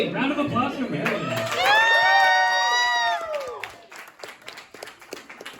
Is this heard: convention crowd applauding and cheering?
yes